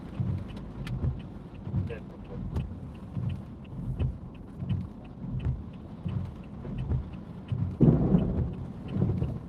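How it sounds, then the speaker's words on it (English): Low rumble of thunder from a nearby lightning strike during a severe thunderstorm in Charlotte, heard from inside a car over steady, rhythmic background noise with one louder swell near the end. "Rumble of thunder there from that nearby lightning strike."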